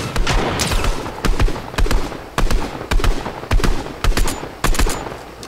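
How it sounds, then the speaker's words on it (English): Rapid bursts of gunfire in a Fortnite match, aimed at a hog, crack out in repeated clusters of sharp shots across the stretch, loud and close with brief gaps between volleys. "This dude shooting at a hog."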